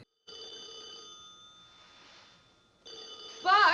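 Telephone bell ringing in the 1964 film Dr. Strangelove, a steady electric ring that plays for a couple of seconds, pauses, then starts again as a louder sound cuts in at the end.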